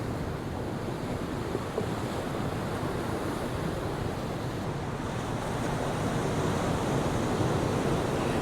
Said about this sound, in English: I do feel like I'm in the firing line here for any incoming waves